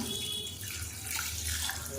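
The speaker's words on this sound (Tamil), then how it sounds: "இப்போ இதில் வந்து தண்ணி ஊற்றிக்கலாம்" Water runs steadily for about two seconds, poured onto horse gram lentils for soaking, a close, continuous splashing pour with no voices.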